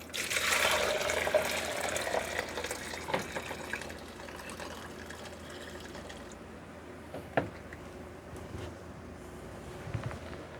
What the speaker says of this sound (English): I'm just going to pour it in here so I'll know how many cups that I have